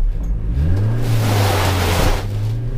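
Citroën C15 van pulling away from a standstill with launch control, its engine revving up sharply then holding a loud, steady climbing drone close by.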